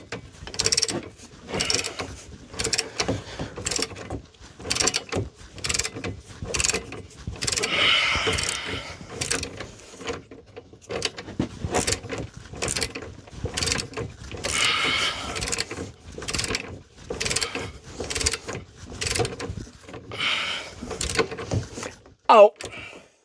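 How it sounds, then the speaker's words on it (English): Ratchet wrench clicking in rapid repeated bursts while working on the rear subframe of a Mini Cooper S Cabrio, close and fairly loud, with someone talking intermittently and a sharp clank near the end. "the ratchet should just turn in the right direction"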